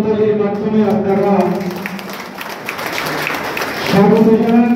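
Crowd clapping at a traders' association get-together in Chakdah, welcoming guests, a broad burst of applause in the middle with someone speaking over the start and end.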